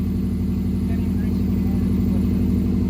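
A Subaru WRX engine idles while warming up after a rebuild, with a steady, loud, rhythmic low throb that holds constant throughout.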